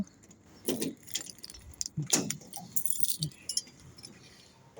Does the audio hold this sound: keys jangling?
yes